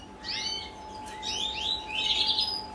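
A songbird kept by a bird breeder sings a few short, clear chirping phrases nearby, fairly faint against a steady background hum.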